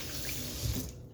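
Tap water runs steadily into a kitchen sink while vegetables for a fresh salad are rinsed under it, a close, continuous splashing hiss with a brief heavier gush partway through and no voices.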